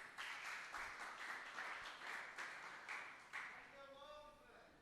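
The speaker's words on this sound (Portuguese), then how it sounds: "vamos aplaudir eles" A church audience applauds a couple, Maria and Frank, with rhythmic unison claps at a steady pace that fade out as a voice begins to speak at the end.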